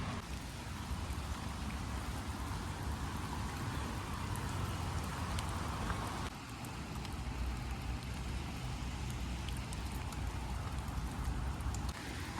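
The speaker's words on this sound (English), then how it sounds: "so the rain's gone a bit faster." Steady rain falls outdoors over green grass and greenery, a dense, even hiss of drops that holds at the same level throughout with no voices over it.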